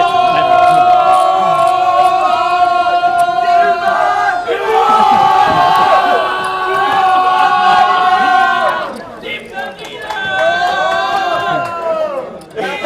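Poker fans at a World Series of Poker Millionaire Maker final table cheer and roar loudly without a break, with whoops and shouted chants that rise and fall in a packed, echoing room.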